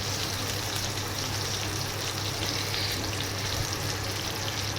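Cheese-stuffed tomatoes fry in a pan with a steady, close sizzling hiss that runs without a break and with no talking over it.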